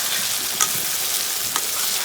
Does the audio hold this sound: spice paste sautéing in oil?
yes